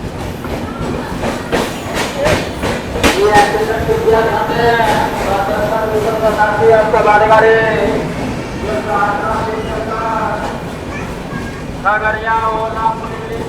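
An Arunachal AC Superfast train runs through Mansi Junction without stopping in heavy monsoon rain, with steady rolling rumble and rhythmic clickety-clack of wheels over joints, while people talk over the noise throughout.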